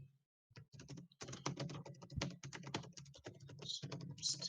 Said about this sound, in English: Sounds like someone's typing.